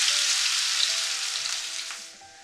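Onion frying in hot oil with dried chili for spiced chickpeas, a bright close hiss with a faint tonal hum underneath, loud at first and easing off toward the end.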